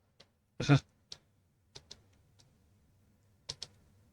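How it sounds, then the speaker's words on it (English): Scattered clicks from a wireless computer keyboard with a weak signal, a few isolated keystrokes and short pairs spread over a quiet background, with one louder clack near the start. "I'm dealing with a wireless keyboard that isn't that great"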